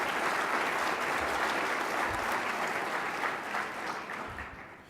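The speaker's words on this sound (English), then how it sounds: "Please give yourselves a round of applause." Sustained audience applause at a university gala dinner, a dense, steady wash of clapping from a large room that holds loud throughout and tapers slightly at the end.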